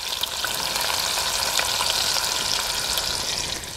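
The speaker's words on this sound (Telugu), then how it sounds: "నూనైతే కాగింది ఇందులో పోపు దినుసులు వేసుకుంటున్నాను అలాగే చిన్నగా కట్ చేసుకొని ఉల్లిపాయ ముక్కలు కూడా వేసుకుంటున్నాను" Chopped onions and tempering spices frying in hot oil for a cabbage curry, a close, steady crackling sizzle with occasional sharper pops and no talking.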